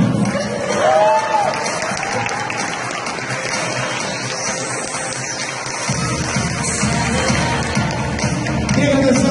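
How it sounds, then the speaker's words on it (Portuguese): Applause from the audience at an award ceremony in Mogi das Cruzes, a steady wash of clapping and crowd noise with some voices over it, swelling louder toward the end. "ele merece uma salva de palmas"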